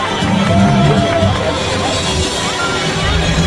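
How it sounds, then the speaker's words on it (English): Audience at a model making competition prize ceremony at an engineering college claps and cheers in a loud, continuous wash of crowd noise and babble. "Everyone, please clap for them"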